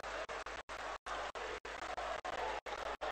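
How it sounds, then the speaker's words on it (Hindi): Crowd applause at a political rally in Satna for Prime Minister Narendra Modi, a broad wash of clapping repeatedly chopped by brief dropouts, fairly steady and dense throughout. "मैं चाहता हूं एक बार सभी लोग माननीय प्रधानमंत्री जी के इन फैसलों पर तालियां बजा करके उनका अभिनंदन करिए"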